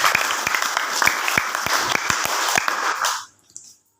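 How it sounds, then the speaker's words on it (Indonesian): A church congregation at a Saturday service bursts into dense, sustained applause that blends many hands into a roar with a few louder claps standing out, then stops abruptly and leaves near silence. "Tepuk tangan dahulu bagi Tuhan."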